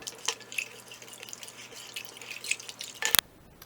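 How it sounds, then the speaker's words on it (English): Lime beer brew with sugar gets stirred, producing soft, irregular liquid swishes and drip-like splashes, with a sharper burst near the end. "let's give it a stir"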